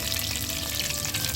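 Homemade unsalted butter, three tablespoons, melting in hot oil in a pan over a lowered flame, giving a steady, close, continuous sizzle and crackle with no talking.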